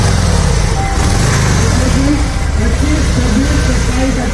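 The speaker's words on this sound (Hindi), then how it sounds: "थोड़ा इंजन रिलैक्स कीजिए।" A motorcycle engine idles loudly at a superbike event with Suzuki Hayabusa and Harley-Davidson bikes, a steady low rumble with a faint tonal whine, nearby and continuous under crowd and announcer noise.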